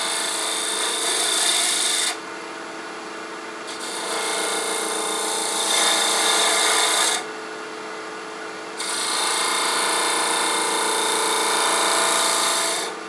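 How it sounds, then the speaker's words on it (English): Detail gouge carving and scraping wood for a wooden cable grommet, a steady close rasping that runs in three long strokes separated by brief lulls. "I'm going to remove a little extra wood first with this detail gouge before we start in the box scraper."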